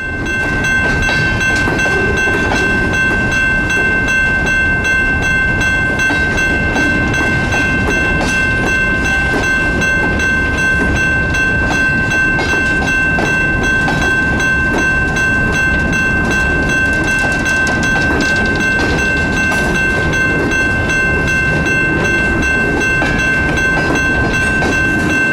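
CSX local freight train A766, 23 cars including hoppers, rolls past with a steady broadband rumble and wheel clatter, a sustained tone running throughout, loud and close for the whole stretch.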